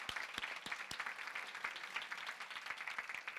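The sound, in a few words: conference audience round of applause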